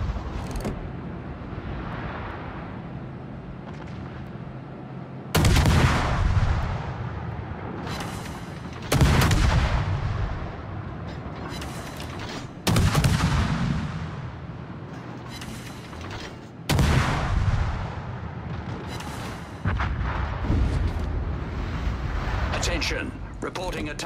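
Warship naval guns fire at an enemy warship in a naval battle game, with heavy booming salvos every few seconds over a constant low rumble of engines and sea, loud and close, with a radio-style voice over the action.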